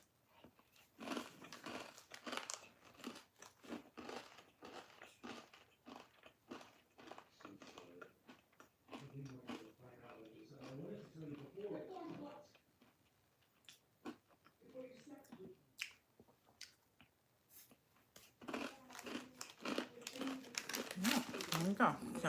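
An oat bar is chewed with soft crunches and bites while its plastic wrapper crinkles in sharp bursts. Stretches of talking come in between the chewing.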